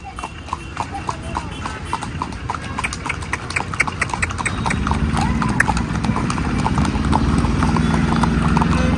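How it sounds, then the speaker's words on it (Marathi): A herd of horses walks along, their hooves clip-clopping in a close, steady, overlapping rhythm that grows fuller and louder, with people talking in the background. "आपली पवार पाटील घोड्यालांचा तांडा चाललेला आहे बघा."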